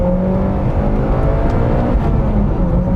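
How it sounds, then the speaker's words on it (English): A Mitsubishi Lancer Evolution X accelerates hard, its engine note a continuous, loud, close-up roar with a steady, rising drive and no talking over it. "First off, the acceleration."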